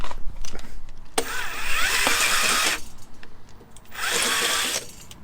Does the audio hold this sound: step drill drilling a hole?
yes